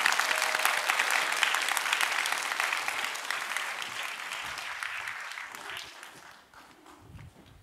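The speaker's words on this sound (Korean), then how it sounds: "박수로 환영하겠습니다." A church congregation at a seminar for new members applauds to welcome a guest elder, sustained dense clapping that fades out gradually over several seconds, with no speech.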